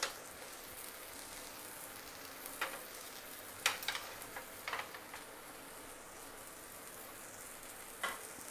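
Jowar batter cooking in a pan over a slow flame gives a soft, steady low sizzle, with a few faint clicks and taps of a utensil scattered through.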